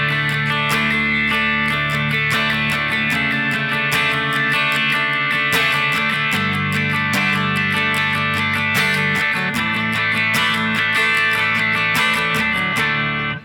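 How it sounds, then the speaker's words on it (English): Acoustic rhythm guitar plays the verse of a song, strumming open-string chords in a steady, full, close-miked pattern that rings continuously without talk. "So the first rhythm guitar is an acoustic guitar"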